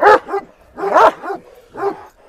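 A Kangal shepherd dog on a village farm barks three times, with loud, close, harsh barks spaced about a second apart.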